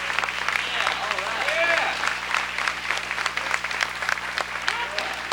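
A crowd applauds steadily, dense clapping filling the room for several seconds with a few voices mixed in.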